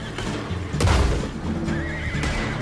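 A horse whinnies loudly in a Wild West video game, a rising neigh near the middle over rumbling game noise, with faint hoof clatter around it.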